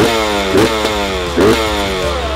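A vintage 1996 Honda CR 250 motocross motorcycle engine revs hard and close, rising in a couple of throttle bursts over a steady rough drone, loud and alone, after a year unridden.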